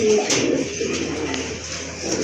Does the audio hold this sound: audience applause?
no